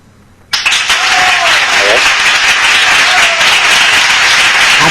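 A canned applause effect played on a show bursts in suddenly after a brief quiet and holds as a loud, dense wash of clapping, with faint voices mixed underneath.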